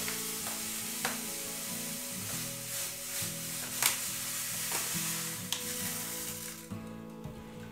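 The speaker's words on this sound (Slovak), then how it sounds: "varíme na miernom ohni, kým sa nám cukor nerozpustí" Brown sugar dissolving in elderflower syrup liquid over low heat in a pot, with a soft continuous bubbling simmer and occasional spoon scrapes and clinks throughout, no talk.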